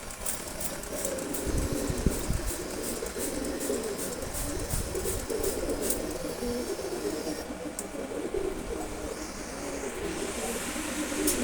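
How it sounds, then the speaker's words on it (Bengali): Caged pigeons being bathed with a spray bottle, cooing softly with rustling and fluttering movement under a continuous, low background hiss. "যারা খাঁচায় কবুতর পালেন তারা বোতলের স্প্রে দিয়ে কবুতরকে গোসল করাতে পারেন।"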